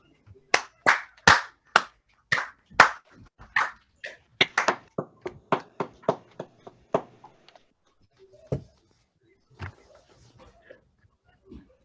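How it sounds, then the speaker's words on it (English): A small group claps in a short burst of applause for a troop presentation: a quick run of sharp, distinct claps that thins out into a few scattered, fainter ones, close by, with no voices. "Everyone, let's clap it up for Mr. Cummings."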